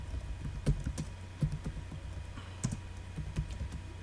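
Keys tapped on a computer keyboard in irregular bursts of clicks, with several louder strikes standing out over a steady low hum, no voices.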